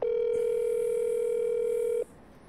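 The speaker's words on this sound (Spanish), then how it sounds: "Es el teléfono personal de la ministra Karen Abudinem" A telephone ringback tone sounds while calling a government minister's personal phone: one loud, steady two-second tone, close and alone, then it cuts off to quiet background hiss.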